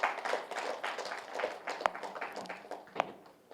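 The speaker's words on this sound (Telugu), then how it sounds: "సో మన చప్పట్లతో సార్ని వెల్కమ్ చెప్పుకుందాం." An audience claps together to welcome a speaker at an indoor class or seminar, a moderately distant, continuous patter of many hands with a few sharper claps standing out.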